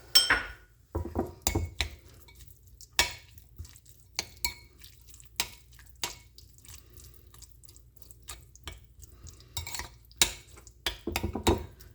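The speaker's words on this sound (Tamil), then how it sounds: "இப்போ நாம் இதை ஒரு மிக்ஸ் கொடுத்துடலாம்." Beetroot poriyal being stirred into thick curd in a bowl for raita: a series of sharp spoon clinks and scrapes against the bowl, irregular and fairly close, with wet mixing between them and no talking.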